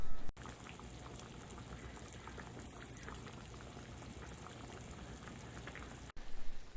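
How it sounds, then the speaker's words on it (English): Chicken adobo simmers in its sauce in a pan, giving a steady, soft bubbling and fizzing that carries on evenly throughout, close and fairly quiet. "I'll bring you back so you can see what the simmering looks like"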